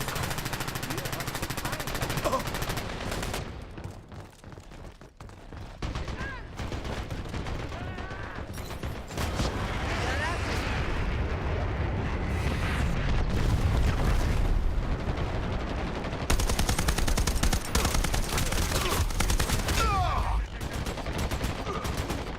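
Video game gunfire with sustained automatic bursts and heavy booms, dense and loud throughout with brief lulls, while players talk over it.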